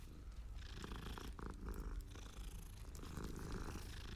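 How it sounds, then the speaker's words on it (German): A Siamese cat in the game Hogwarts Legacy purrs steadily and fairly close, a low continuous rumble with soft background noise. "Katze"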